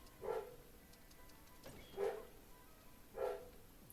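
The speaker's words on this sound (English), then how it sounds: "Tell that dog to shut up." A dog barks three times at spaced intervals, single moderate barks heard at a slight distance over a quiet room background.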